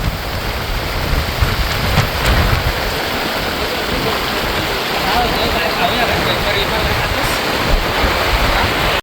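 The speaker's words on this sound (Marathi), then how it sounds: "मित्रांनो अचानक पाऊस सुरू झाला" Sudden heavy monsoon rain driven by strong wind on a trek to Sondai Fort near Karjat in Raigad, a loud, steady roar and wash of rain and gusts that fills the whole clip without a break.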